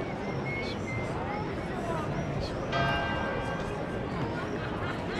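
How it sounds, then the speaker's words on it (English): Church bells ring out in Poland for holy mass over a bustling crowd, with steady chatter and footsteps filling the scene around the ringing. "Bells are ringing."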